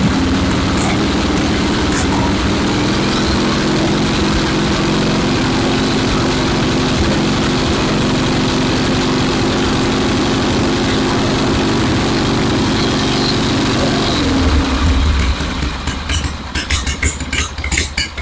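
A 1974 Harley-Davidson Ironhead chopper motorcycle engine running at a loud, steady, close idle with a low rumble, then settling near the end into a lumpier, uneven throb.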